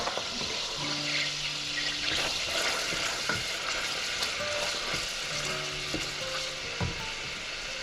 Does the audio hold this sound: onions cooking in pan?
yes